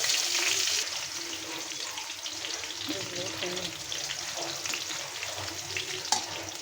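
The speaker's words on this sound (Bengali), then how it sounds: "মরিচগুলো ভাজা হয়ে গেছে, আমি পেঁয়াজটা ভাজা নিব" Onion frying in a pan after chillies, a continuous soft sizzle with faint stirring scrapes, a quiet voice murmuring briefly in the background.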